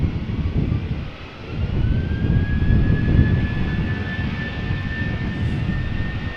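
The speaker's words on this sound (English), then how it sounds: "Speedbird will do a rolling start by the looks of it" A British Airways Speedbird Airbus A320 makes a rolling-start takeoff at Amsterdam Schiphol Airport, its jet engines building into a loud sustained roar with a rising high whine, heard from a distance.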